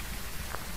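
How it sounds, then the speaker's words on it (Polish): Steady rain from the Phasmophobia video game, a constant soft hiss of drops falling on a surface, quiet and unbroken with no talk. "i ten deszcz"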